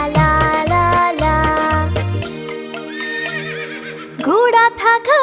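A horse neighs in a children's Hindi song, first amid clip-clop hoofbeats and music, then as a loud, close whinny that rises and wavers near the end, with no words sung over it.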